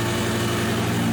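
A cheap Lamborghini fitted with a DIY turbo kit idles with a loud, steady, deep engine drone, close by and continuous with no voices.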